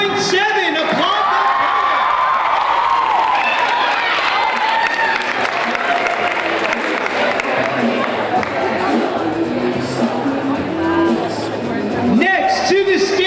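A school poetry slam crowd applauds and whoops after judges' scores, a loud mix of clapping, cheers and chatter that swells and lingers throughout.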